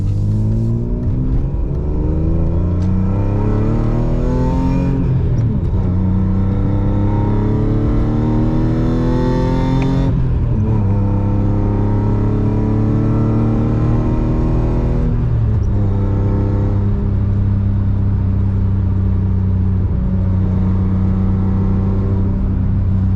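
A BMW E36 M3 sedan with an S54 engine and six-speed gearbox revs hard through repeated gear changes while driving, its loud engine note climbing then dropping at each shift for a continuous stretch.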